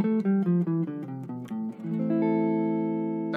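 Guitar running down an A natural minor scale, one clear plucked note after another at an even pace, then settling on a final sustained ringing note, close and alone without talk.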